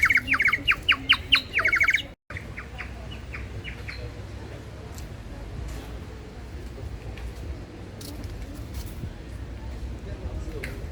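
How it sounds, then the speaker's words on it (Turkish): A handmade water-filled bird whistle toy gives a burst of rapid warbling chirps for about two seconds, followed by fainter trills under continuous crowd chatter and outdoor background noise near a waterfall in Antalya. "Bu da su kuşu. Suyla çalışıyor."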